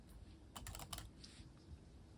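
Typing on the keyboard of an M1 MacBook Air, a soft, muted patter of quick key presses in a short burst at moderate distance, not very clicky, over quiet room hiss.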